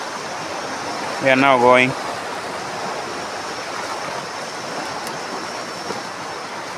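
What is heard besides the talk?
flowing water of the Kuja River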